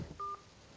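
A single short tone beeps as a number is dialed on a telephone keypad, quiet and clean against faint background hiss, with no talking.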